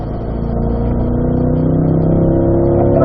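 A car engine on a race track drones steadily as the throttle rolls off and back on, the pitch of its harmonics sliding gradually while the loud, close engine noise slowly builds.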